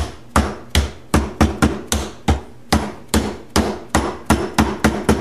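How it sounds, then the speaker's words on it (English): A dead blow hammer taps steadily and firmly on a 1973 Honda CB750 oil pump, about a dozen dull, close strikes in an even rhythm with no talking. "I think I can probably just tap it back in place with a dead blow hammer."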